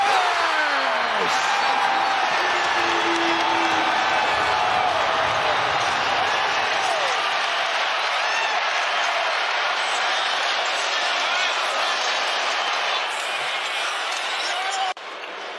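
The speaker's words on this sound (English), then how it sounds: "the step back, the three, and the crowd goes delirious" Basketball arena crowd roaring loudly and steadily after a Timberwolves step-back three by Anthony Edwards, a dense sustained cheer that holds for about fifteen seconds before dropping slightly at the end.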